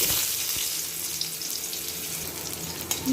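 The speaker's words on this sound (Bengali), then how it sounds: "তেল গরম হয়ে গেছে এবার মিষ্টি কুমড়াগুলো ভেজে দেব" Pumpkin pieces frying in hot mustard oil in a wok, a steady close hiss and sizzle with a bright crackling wash that holds evenly throughout, no voices.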